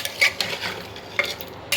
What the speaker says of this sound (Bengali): সুন্দর করে গরুর মাংসটা কষাবো।